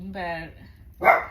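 A single sharp dog bark sounds up close right after a brief spoken word.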